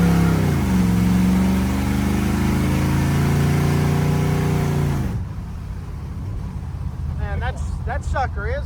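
A 502 big block squarebody truck with a Turbo 400 transmission and heavy-duty 12-bolt rear end accelerating, a deep, loud rising engine roar heard from inside the cab that drops off abruptly midway, followed by a quieter rumble and brief talk.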